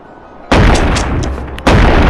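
Two loud, close shotgun blasts in the VR game Animal Company, the first about a quarter of the way in and the second near the end, each a sharp boom that lingers without fading.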